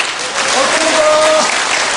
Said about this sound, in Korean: 여러분 박수 치십니다.